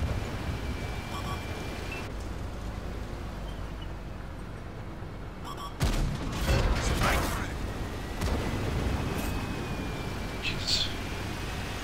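A T95/FV4201 Chieftain 'Valour' tank fires its main gun in a video game on the Redshire map: one sudden heavy blast breaks a low mechanical hum midway, then a rumbling tail and further clanks follow.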